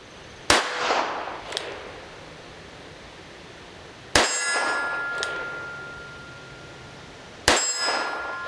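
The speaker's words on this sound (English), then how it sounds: "I'm going to take 9 shots at that steel target up there and see if I can't make it dance and ring a little bit." Three sharp .22 shots from an older Taurus Model 94 revolver, each followed by a bright ringing clang off a distant steel target, spaced a few seconds apart in an outdoor setting with no talk.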